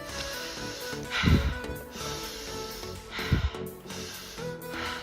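Close, audible breaths in and out, with two sharper snort-like inhalations amid quieter background sounds.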